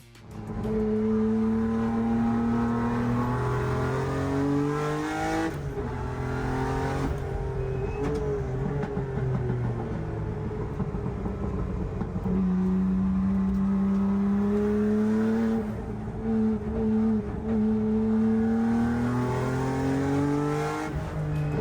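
Nissan GT-R race cars run a time attack session at a circuit in New Zealand, with engines rising and falling in pitch as they rev hard through gears. The sound is sustained and moderately distant, and no voices are heard.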